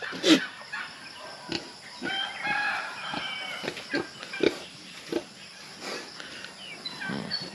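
A free-range pig on a countryside farm grunts now and then among farmyard noise, with a rooster crowing and hens clucking nearby.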